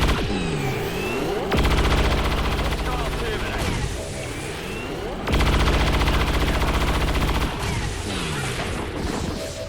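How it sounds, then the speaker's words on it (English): A minigun fires in the video game XCOM 2 in long, loud, sustained rattling bursts, with whirring spin-up and spin-down sweeps between them. "He's starting his minigun and ra-ta-ta-ta-ta"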